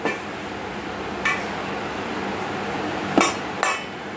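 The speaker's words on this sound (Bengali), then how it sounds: "শুকনো উপকরণগুলো মিশিয়ে নেব" Dry flour ingredients being mixed with white oil in a bowl in a hill village kitchen. A few sparse, sharp clinks and scrapes against the bowl rise over a steady, faint background hiss.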